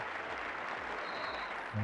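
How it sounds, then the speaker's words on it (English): Audience applause following a card trick at a magic show, a steady wash of clapping hands that fills the whole stretch at moderate level, with a brief low thump near the end. "Thanks for the claps"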